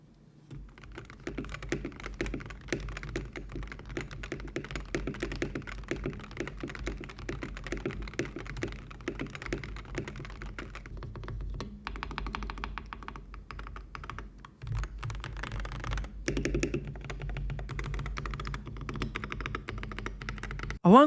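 Rapid typing on a Wooting 80HE gaming keyboard with lubed Lekker switches and a gasket-mounted board, a dense run of slightly clacky keystrokes close up, with a brief pause near the middle.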